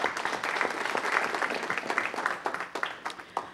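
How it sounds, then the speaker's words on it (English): Audience applause at a city council meeting, a dense steady wash of many hands clapping that thins toward the end, with individual claps standing out as it fades. "Everyone, please give them a round of applause."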